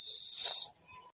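A pressure cooker cooking dal lets out one shrill, high whistle for under a second, then cuts off, leaving only faint hiss in the kitchen.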